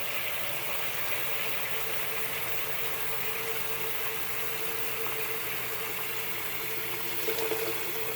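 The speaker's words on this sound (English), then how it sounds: "So we'll turn on the hot water, let that run for a while." Hot water from a tap pours steadily into a sink drain being tested after a gel drain-cleaner treatment, a constant even rushing hiss with no voices, heard close.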